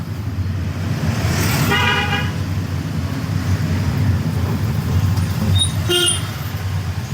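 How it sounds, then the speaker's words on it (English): On a narrow, crowded road shared with cows, car horns give a couple of short toots, one near and one brief, over a constant rumble of engine and traffic noise. "I must give the horn because I don't want to hear them."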